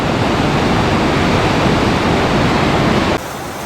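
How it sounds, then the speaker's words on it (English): A mountain stream flowing out of Lake Louise in Banff National Park rushes in a dense, steady roar close by, then drops abruptly quieter near the end. "So many of these mountain streams here that are just wonderful."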